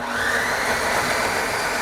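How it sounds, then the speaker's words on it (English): A kitchen blender whirs continuously at moderate volume while a Gordon Ramsay Masterclass recipe with thyme is prepared, a steady dense motor roar with no voices over it. "then we just toss it into the blender"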